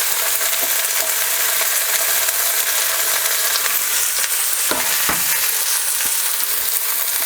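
Celery stir-frying in a hot pan, a loud, dense, continuous sizzle close up, with a few brief scraping knocks from stirring toward the end.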